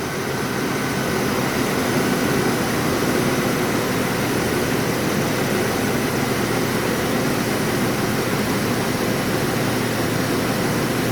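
Engine of a Saab 9-7X idling with the fuel pump relay pulled, a steady loud running drone with no break or stall heard throughout.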